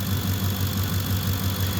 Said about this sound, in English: I don't know if you can hear the alternator.